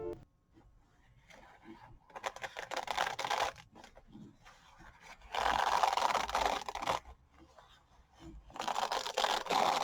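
A sheet of kitchen towel is peeled apart into its thin layers, giving close, quiet bursts of papery rustling and tearing that swell and fade in several separate stretches.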